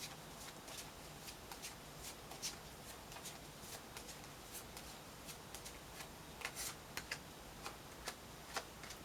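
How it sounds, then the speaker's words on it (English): Tarot cards are riffled and drawn from a deck in a quiet, close series of soft, quick shuffling flicks and taps spread throughout, with no talking. "So I'm going to pull 3 major arcana cards on each of these columns"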